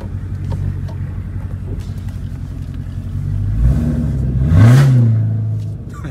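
A Cadillac CTS-V coupe engine with bolt-on modifications rumbles low, then revs up with a rising whine and eases off, heard from inside the car.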